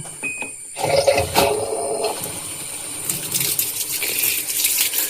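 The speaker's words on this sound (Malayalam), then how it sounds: "വെള്ളം വരുന്നുണ്ട്" Water gushing from a washing machine's inlet pipe just after the tap is opened, a close, continuous rushing flow with a few knocks and splashes and no talk.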